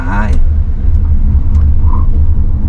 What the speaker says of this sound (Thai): เดี๋ยวลองอัตราเร่ง0ถึง100กิโลเมตรต่อชั่วโมงให้